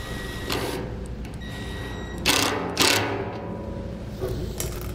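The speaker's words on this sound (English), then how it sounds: "take one of our smaller hose clamps and cinch that down. Now this one's going to use a 1/4 inch either socket or bit driver." A small hose clamp being tightened with a 1/4 inch socket or bit driver while a DeeZee auxiliary tank is fitted in the bed of a 2011 Ford F-250/F-350; several short ratcheting whirs and clicks, close and loud, no talking.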